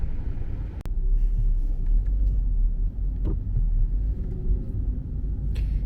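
Low engine rumble of a car idling and creeping in slow, congested city traffic in Osaka, held at a red light; a steady close drone with a brief click near the start, no talk.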